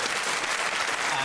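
Studio audience at a taping of the British comedy panel show Would I Lie to You, clapping in a dense, steady wash of applause that fills the whole short moment without a break.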